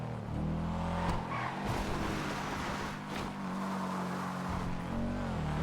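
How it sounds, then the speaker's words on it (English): A Sultan RS Classic car, styled on the Subaru Impreza 22B, roars in the game GTA, its engine revving and shifting through rising and falling tones, loud and continuous with no speech. "I'll leave you with the mighty engine sound of the Subaru Impreza."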